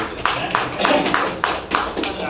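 Scattered applause from an audience at a Tamil debate event held for a birthday celebration in Bengaluru, a few hands clapping in uneven bursts, close and fairly loud.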